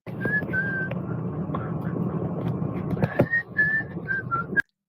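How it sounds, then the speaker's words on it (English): A man whistles nervously and obsessively during a cop-watch audit, giving a string of short, wavering melodic notes over a low background rumble, fairly close, before stopping abruptly. "the obsessive whistling that he does every time he does an audit, he does a cop watch, because he's so nervous"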